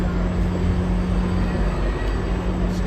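A GO commuter train at Union Station, heard as a steady, loud rumble with a constant low hum, continuous and close throughout, no speech.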